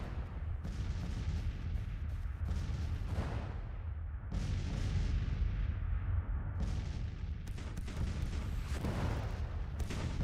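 Artillery fire on a battlefield in the strategy game Grand Tactician, set in the 2nd War of Independence: heavy rumbling booms and distant gun blasts rolling continuously, loud and low, with several sharp salvos and no talk.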